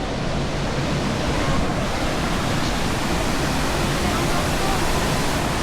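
Tinago Falls, a 240-foot waterfall plunging into a 90-foot-deep pool, roars as a steady, loud broadband wash of falling water, dense and unbroken throughout with no pauses.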